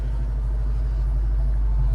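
A 1972 Ford Mustang convertible with Sniper fuel injection and a manual transmission idles high, giving a loud, steady low rumble with no change in pitch and no voices.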